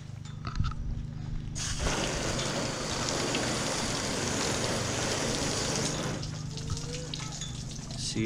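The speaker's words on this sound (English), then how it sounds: "Okay, let's hit it with the shower setting." Water from a hose on its shower setting sprays steadily onto a car, a dense hissing patter that starts abruptly, runs for several seconds, then cuts off.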